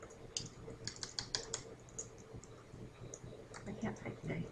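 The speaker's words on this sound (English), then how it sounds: "I can't type today." Quick, light keystrokes on a computer keyboard while entering data into an Excel spreadsheet, faint clicks in short uneven bursts under a quiet room tone.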